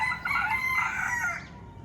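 A rooster crows loudly and close on a street in Dumaguete, Philippines, one long drawn-out call that fades near the end over a low background hum.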